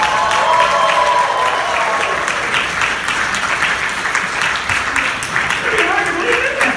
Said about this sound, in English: Who applaud wildly